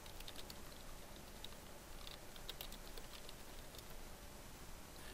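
Quiet, rapid clicking of keys on a computer keyboard as a command is typed, faint and close against a steady background hiss.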